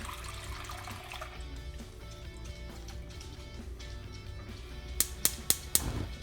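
Milk poured into a good-sized pot for homemade yogurt, a steady liquid rush for several seconds, followed by a few sharp knocks near the end.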